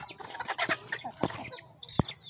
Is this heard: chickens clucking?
yes